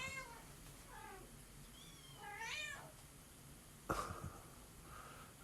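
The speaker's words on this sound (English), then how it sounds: "mama cat over there just going at it with that baby" A mother cat meows repeatedly at her kitten, a series of rising, drawn-out calls from fairly close by, followed by a sharp knock and a last softer meow.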